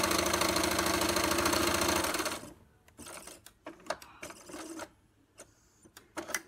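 A sewing machine stitching quilt strips runs in a fast, steady mechanical whir for about two seconds, then stops, leaving scattered handling clicks and taps.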